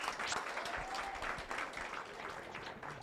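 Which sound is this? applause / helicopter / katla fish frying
applause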